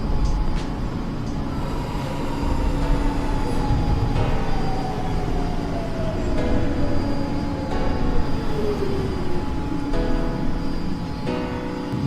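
A Coney Island-bound Q local train on the New York subway runs steadily, its loud rumble and rail noise continuous throughout, with a slowly falling whine and faint metallic squeals near the end.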